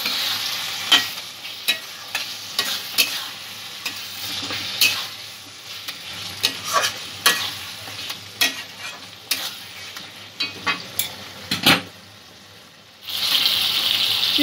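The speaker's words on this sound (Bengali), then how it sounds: "সমস্ত উপকরণগুলো আবারও একটু ভেজে নেব।" Chicken and the ghugni ingredients fry with a spoonful of meat masala in a pan. A spoon scrapes and stirs in a quick, uneven rhythm over a continuous sizzle, close and fairly loud. There is a brief pause near the end before the sizzle returns.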